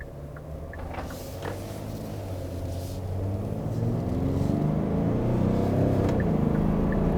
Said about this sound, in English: I'm going to make a U-turn, so just make a U-turn here.